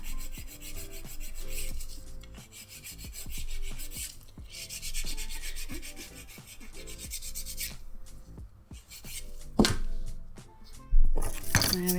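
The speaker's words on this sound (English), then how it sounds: "I'm going to take this metal file." Metal nail file rasping back and forth to sharpen the smile line of a nail set, a close, steady scratchy rubbing with a few clinks and louder scrapes near the end, no talk.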